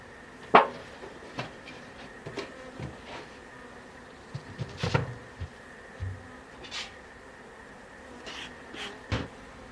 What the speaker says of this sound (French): Les abeilles sont de plus en plus actives, ça travaille bien.